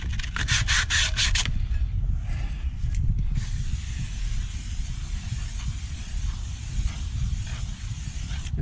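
Sandpaper worked by hand over the glazed lining of rear brake shoes from a Fiat Ducato motorhome, giving a loud, continuous close-up rasp with quick back-and-forth strokes at the start.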